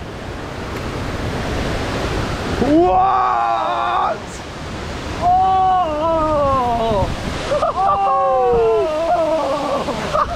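Strong wind gusts roar across the microphone near El Chiflon waterfall, a loud, rushing buffeting that surges and eases, with a man exclaiming over it several times.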